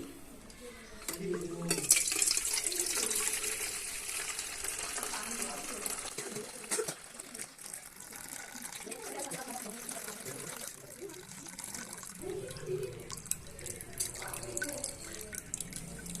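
Running water splashes and trickles steadily into a container nearby, with drips and faint mechanical clatter underneath, while a voice speaks over it.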